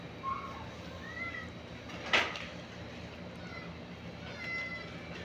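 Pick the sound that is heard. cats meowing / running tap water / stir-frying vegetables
cats meowing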